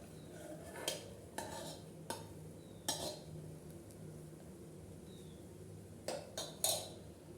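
Hot jaggery syrup is stirred into churma ladoo crumbs with a utensil, giving soft scraping under a faint hiss and a handful of sharp metallic clinks against the pot, spaced irregularly and close by.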